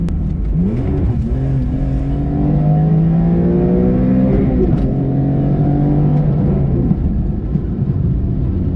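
A BMW E46 M3 with an RK tune accelerates hard, its engine note sweeping upward through repeated gear pulls, loud and steady throughout.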